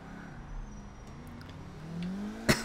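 A car engine in Grand Theft Auto IV on Xbox 360 hums steadily and rises in pitch as it accelerates, then a sharp loud clack or impact sounds near the end, with no talking.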